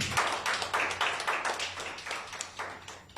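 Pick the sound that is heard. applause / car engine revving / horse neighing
applause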